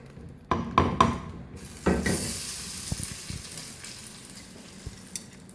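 A few sharp clinks against a pan, then spices crackle and sizzle in hot oil as a tempering for rajma curry, fading into a steady hiss with occasional taps.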